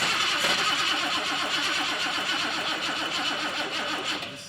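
The starter of a BMW 7 Series sedan cranks its engine in a steady, rapid, rhythmic churn without catching, loud and close throughout the few seconds.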